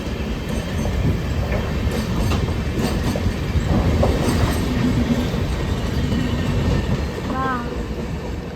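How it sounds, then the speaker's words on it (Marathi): A train rumbles steadily past close by, wheels clattering, with a short squeal near the end and faint voices in the background. "खूप मोठी ट्रेन होती"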